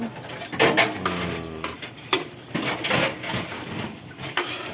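A child stirring homemade spaghetti sauce in a pot, with irregular spoon clinks and scrapes against the metal, close and uneven, with brief voices in between.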